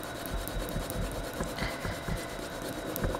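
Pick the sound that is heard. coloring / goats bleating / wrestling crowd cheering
coloring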